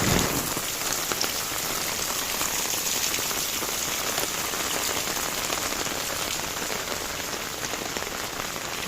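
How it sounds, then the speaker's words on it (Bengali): Heavy rain pours onto a rooftop garden of Malabar spinach plants, a dense, loud, unbroken hiss of drops hitting leaves and surfaces, with no voices. "এখানে অনেক বৃষ্টি হচ্ছে।"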